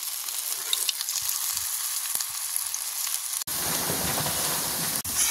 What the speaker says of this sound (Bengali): এবার কড়াই সরষের তেল দিয়ে দিয়েছি, এরকম ছোটো ছোটো করে ভেজে নেব